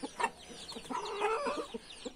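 Short, repeated clucks come from a black carijó rooster at close range, forming a loose rhythmic series with faint bird chatter behind.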